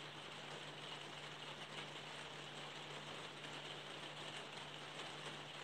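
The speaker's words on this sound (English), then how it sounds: "Yes, it's raining here though, Ducky." Steady rain falling outside, a soft continuous hiss with faint patter throughout, low and even in level, with no talk over it.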